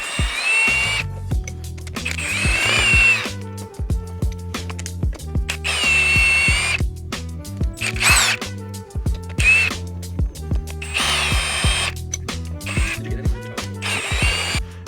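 Cylinder head bolts coming out of a Nissan VQ35DE V6 engine during teardown, with loud repeated bursts of a power tool whirring and rattling, interspersed with brief pauses and clanks, close up.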